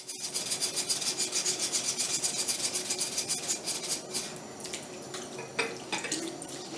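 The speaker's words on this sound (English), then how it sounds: "which will be indicated by a reduction in the grinding sound" A 3D-printed jig scrapes back and forth on a whetstone in a steady rhythmic grinding rasp. The strokes are close and fairly loud, become lighter and less even toward the end, and no one speaks.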